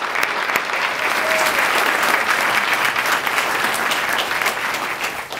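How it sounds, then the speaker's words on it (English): A dense round of audience applause fills an evening volunteer awards reception in Edina, honouring the award recipients. Many hands clap steadily and close by, almost alone, without talk, for several seconds. "one more good round of applause for all those award recipients this evening"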